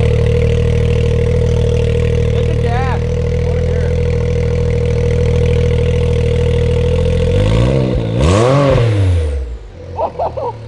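A 2020 Can-Am off-road vehicle engine idles with a steady low drone, then revs sharply several times, rising and falling in pitch, close and loud.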